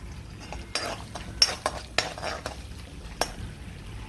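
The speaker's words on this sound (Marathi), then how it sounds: "त्याच्यामध्ये आता आपण थोडासा तेजपत्ता घालणार आहोत तेजपत्ता थोडासा भाजून घ्यायचा आहे" Bay leaves roast in hot butter and oil in a pan. A faint, low sizzle sits under a series of sharp utensil clinks and scrapes that come at irregular intervals.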